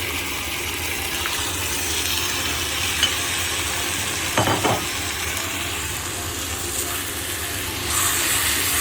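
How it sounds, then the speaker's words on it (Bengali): Marinated mutton cooking in hot spice masala for a mutton curry gives a steady, close, hissing sizzle with occasional clinks and scrapes of stirring, including a brief clatter midway. "এই মশলাটার মধ্যে আমরা এই ম্যারিনেশনের মাটনটা দিয়ে দেবো"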